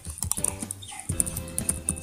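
Clicky keystrokes on a computer keyboard, typed in short irregular bursts with a brief pause midway, close and clear with no talking.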